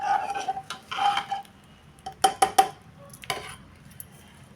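Spoon scraping and clinking against a metal pan while Kitchen King masala is mixed into a lentil dish, a few scattered strokes and taps with quiet gaps between them.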